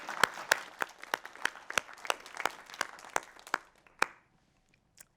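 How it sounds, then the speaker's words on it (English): Rapid, sharp claps from an awards-ceremony crowd, loud and steady, then tapering off to a few scattered claps before silence. "Let's give them a warm round of applause."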